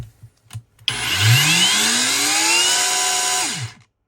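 An ALDI Ferrex 20V cordless hammer drill, set to drill-only mode, whirs up to speed with a rising whine, runs steadily for a few seconds, then winds down and stops, after some brief handling knocks.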